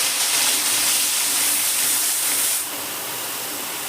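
Water from ginger-cumin paste hitting a hot frying pan, a loud, close, broad sizzling hiss that runs strong and steady, then drops slightly in level and carries on evenly.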